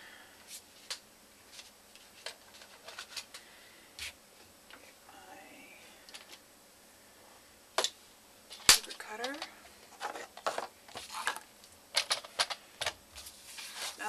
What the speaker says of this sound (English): First thing I'm going to do is cut my papers to size.